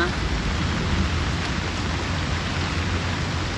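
Steady rain falls in a dense, even hiss that fills the whole stretch, loud and close with no break, outdoors in a flooded fishing area.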